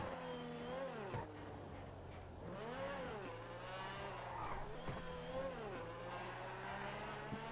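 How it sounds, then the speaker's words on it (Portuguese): A car in GTA 5 skids with a sustained tire squeal that wavers in pitch over a revving engine, loud and continuous throughout. "bagaça tá derrapando, velho"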